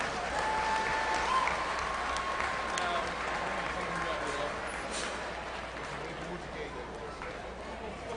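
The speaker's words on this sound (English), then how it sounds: "Let's give all these a round of applause" Applause rolls through the crowd at a youth fair livestock show, moderately loud and fading slightly toward the end, with talk from the arena mixed in.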